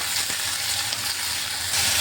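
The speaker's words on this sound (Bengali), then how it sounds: "প্রথমে আমি একটু আলুটাকে একটু একটু হালকা একটু ভেজে নিচ্ছি" Steady, crackling sizzle of potatoes lightly frying in hot oil before pointed gourd is added, close and continuous, growing slightly louder near the end.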